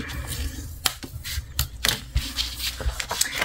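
Paper flaps on a scrapbook mini album being folded and creased, giving a few sharp crisp clicks and rustles spaced irregularly over a quiet room background.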